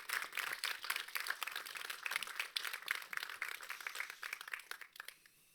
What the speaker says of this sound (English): let's give a big round of applause to Kathryn, Amir and Rachel for joining us for this discussion